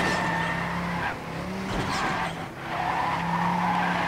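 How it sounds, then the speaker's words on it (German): Tyres squeal as a race car drifts through a whole curve in the ManiaPlanet racing game, a sustained skidding screech over a steady engine drone, dipping briefly midway and rising again, loud and close. "Ganze Kurve gedriftet, sehr schön."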